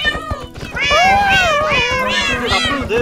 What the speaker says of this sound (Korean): 고양이 어 뭐야 한 마리 더 생겼어